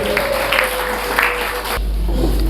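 An audience applauds, a dense wash of clapping that swells and then cuts off after a couple of seconds, followed by a quieter room.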